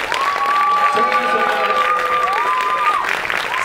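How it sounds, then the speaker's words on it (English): An opening-night festival audience applauds and cheers a film co-director at a screening Q&A, a dense, sustained wash of clapping with whoops and voices carrying through it. "So, huge round of applause."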